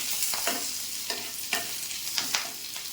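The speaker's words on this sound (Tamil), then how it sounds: "கருவேப்பிலை போட்டுக்கிறேன். போட்டு இதை கொஞ்சம் இப்படி வறுத்துடலாம்." Curry leaves and large fennel seeds frying in oil in a pan, a soft continuous sizzle broken by several scraping stirs of a spoon, close and quiet with no talking.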